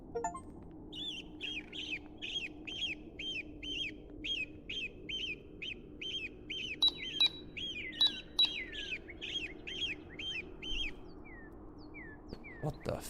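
Birds chirp in a fast, regular series of bright, repeated calls that run for several seconds, then trail off into a few scattered higher tweets, moderately close over a low background hum.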